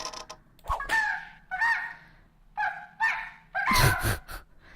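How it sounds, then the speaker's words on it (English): A series of loud, squawking chicken clucks and honking calls in a video game comes in four or five bursts, agitated and close, with brief quiet gaps between them. "Sounds like a really upset chicken."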